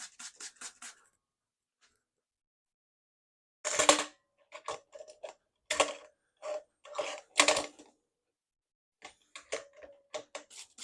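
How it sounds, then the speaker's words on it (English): A hand spray bottle spits short bursts of sanitizer onto a beer keg outlet tap during homebrew kegging, a few quick close hisses separated by pauses and no talk. "Just spray everything, make sure it's all nice and sanitized."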